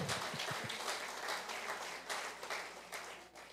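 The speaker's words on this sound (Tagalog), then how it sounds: "malakas na palakpak sa Panginoon" Loud applause from a church congregation at a Resurrection Sunday service, dense steady clapping filling the space throughout, with no speech over it.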